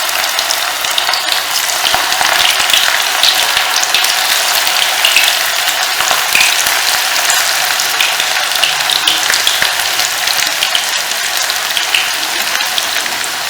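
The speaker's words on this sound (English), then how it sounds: "So the kadai is hot, and we will put in the muthias into it and fry till" Muthias deep-fry in hot oil in a kadai, giving a steady, dense crackling sizzle that holds without a break throughout, close and fairly loud, with no voices over it.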